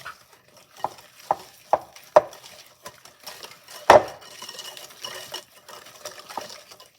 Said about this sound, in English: And then mix it up slowly, but don't over mix it.